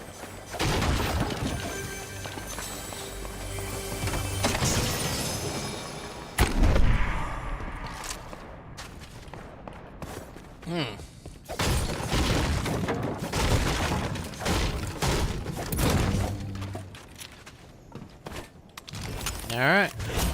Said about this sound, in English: There's a lot of shooting going on over here.